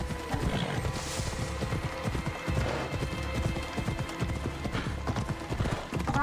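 Hooves of a horse ridden in the video game Assassin's Creed Odyssey clip-clop in a steady rapid rhythm, close and continuous over a background of game ambience and mechanical clatter.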